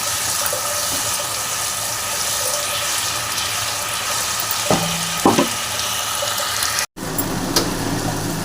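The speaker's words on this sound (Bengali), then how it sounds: "সামান্য পরিমাণ জল অ্যাড করব, মশলাটা যেন পুড়ে না যায়।" Masala and prawns fry in a pan for Bengali-style papaya ghonto, a steady close sizzle broken by a brief splash and hiss as a little water goes in, then a short clatter of stirring.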